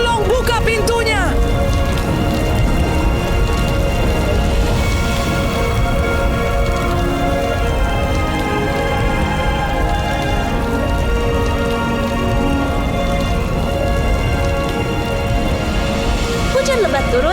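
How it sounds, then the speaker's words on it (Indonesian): Heavy rain falls in a dense, steady hiss that stays loud and even throughout, with scattered droplet patters and no voices over it. "Hujan lebat turun"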